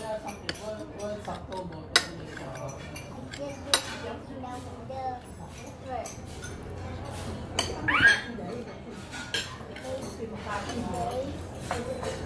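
A spoon clinks against dishes during a meal at the Manila Hotel, with scattered light metallic taps and chinks under ongoing conversation, including a voice.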